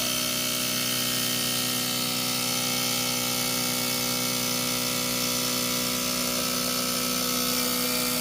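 An Autool CT160 injector tester runs while purging air from 1000cc fuel injectors, a steady loud mechanical hum and whir with a constant tone throughout, no talking.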